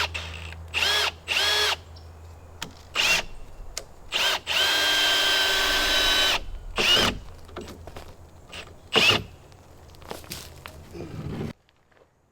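Power drill driving timber screws into a wooden cabin wall during construction, several short bursts and one longer sustained run, close and loud, with brief pauses and footsteps between.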